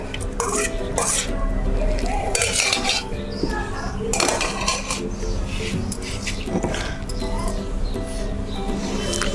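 Mango pulp is added for a mango shake with repeated clattering and clinking of metal spoons against bowls and a jug, busy and close, with a faint voice at times.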